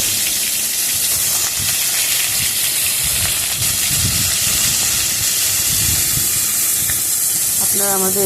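Chopped vegetables for a Bengali khichuri hitting hot tempered oil, producing a loud, continuous sizzling hiss that steams steadily throughout, with a brief metallic clatter of a utensil near the end.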